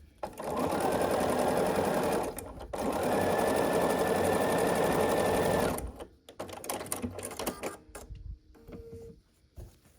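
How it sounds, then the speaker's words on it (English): A sewing machine stitches pieces of a pumpkin quilt block for an autumn table runner in two long, steady runs with a brief pause between them, followed by clicks, fabric handling and lighter mechanical rattles. "I just make sure that all my edges are aligned, and then I just sew across"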